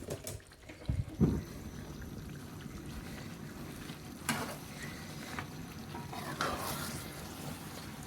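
Fish curry with cha plu leaves being stirred in a pot, soft scraping and sloshing under a low simmering sizzle, with a few louder knocks of the spoon against the pot, quiet and close.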